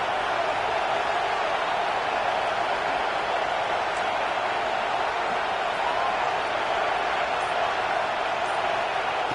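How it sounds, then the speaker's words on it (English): A packed college football stadium crowd in NCAA 26 roars as a constant dense wall of noise, loud and unbroken throughout, with no distinct voices standing out. "wow, listen to this crowd noise"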